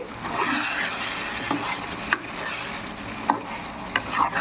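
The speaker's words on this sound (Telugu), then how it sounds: "ఇప్పుడు ఉడికించుకున్నటువంటి పెసరు వేసేద్దాం" Boiled green gram stirred into a pot of prawn biryani, a low continuous sizzle with scraping spoon strokes and a few sharp clicks of utensil against the pot, no voices.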